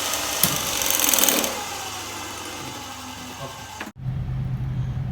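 A DC shunt motor winds down after its DC supply is cut, a steady mid-pitched whir and hum that fades gradually before a brief click and a lower electrical hum.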